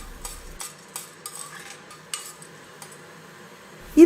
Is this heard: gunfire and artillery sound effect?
no